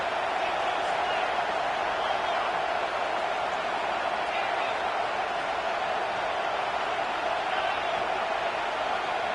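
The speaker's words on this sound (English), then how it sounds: "listen to this crowd noise. This stadium is vibrating." A packed stadium crowd roars without a break in a college football video game, a dense, even wall of noise under a commentator's voice.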